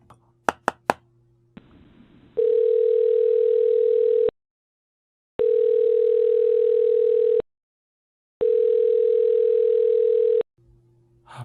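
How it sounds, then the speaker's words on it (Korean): A telephone call to the police station goes unanswered, and three long, loud ringback tones repeat evenly with silent gaps between them. A few brief taps and clicks come before the tones start. "아, 전화를 안 받잖아."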